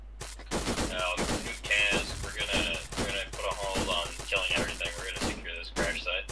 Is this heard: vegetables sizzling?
no